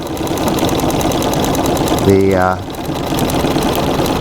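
A treadle sewing machine runs steadily while quilting a full-sized quilt, a continuous mechanical rattle under a voice that talks throughout, with a short tonal sweep midway.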